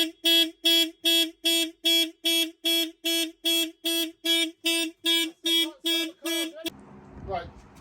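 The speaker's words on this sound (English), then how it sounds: "Right, so the alarm was going off." A Porsche 911 997.1 car alarm blares close by in about fifteen rapid, evenly spaced loud horn-like pulses, then cuts off abruptly, leaving faint rustling and handling noise.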